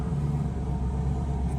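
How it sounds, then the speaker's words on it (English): Turbocharged LS V8 swapped into a Ford Ranger runs with a deep, steady rumble, a loud low drone holding throughout with little change in pitch. "Right now he's making race car noises out there."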